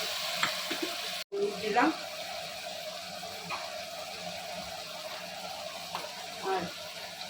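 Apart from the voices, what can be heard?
water poured into pan while cooking Malabar spinach with fish bones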